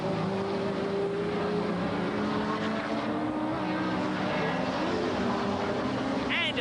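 Race cars roar around a track during a circuit race, with a continuous dense engine drone and shifting whining tones, steady and loud throughout, a broadcast-style mix.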